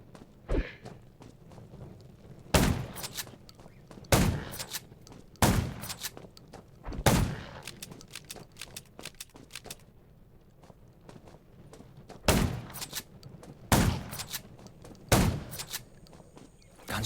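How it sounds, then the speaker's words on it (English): Sharp, loud gunshots from the survival video game Undawn crack out one at a time at irregular intervals, with quieter background noise between them and no talking. "Gunshots will attract more zombies."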